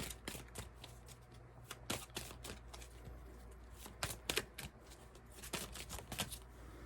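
Brisk riffling and soft snapping of playing cards, in short bursts of crisp clicks over a low steady hum, with a few sharper card flicks near the end.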